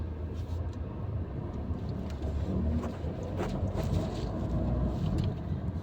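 A car on a driving-test route in Beyazevler, Konak pulls away after the handbrake is released and first gear engaged. A steady, close engine and road rumble runs continuously throughout.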